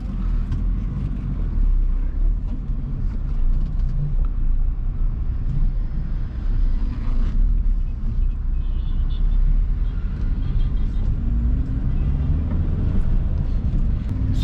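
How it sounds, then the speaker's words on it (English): A car pulling away in first gear during a driving lesson: a low, steady engine rumble with cabin noise, continuous and close, with the tone rising slightly as the car moves off. "let's put the car in first gear. Let's start moving."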